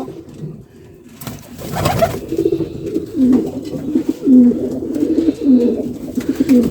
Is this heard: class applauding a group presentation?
no